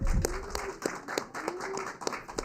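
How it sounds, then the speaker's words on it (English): Scattered applause from a small audience at a members' meeting, a few distinct claps over a murmuring room, fairly quiet and distant. "Big round of applause, everyone."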